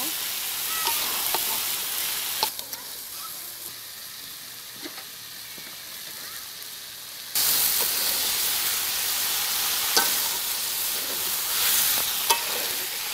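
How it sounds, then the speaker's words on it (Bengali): Fried potatoes and cauliflower stirred into a spice masala in a frying pan, a steady sizzle with scattered scraping taps of the spoon, the frying growing louder partway through. "এখন আমি দিয়ে দিচ্ছি ভেজে রাখা আলু, ভেজে রাখা ফুলকপি, মশলার সাথে ভালোভাবে নেড়ে নিব।"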